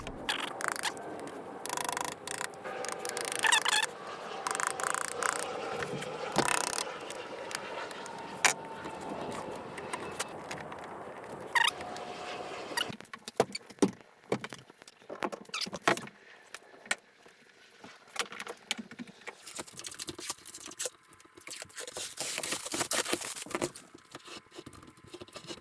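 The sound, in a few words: hand tool cutting a door latch mortise in wood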